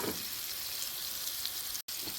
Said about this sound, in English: I'm going to dump everything, all the butter and everything, into the boiling water, and that'll start the soup base